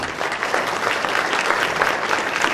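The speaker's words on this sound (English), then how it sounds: "Please give a big round of applause to our friend Nick Sassa, the owner of this place." A dense, steady wash of audience applause fills a venue as people clap for its owner, Nick Sassa, at a heart-health gathering. It is loud and sustained throughout, with no pauses.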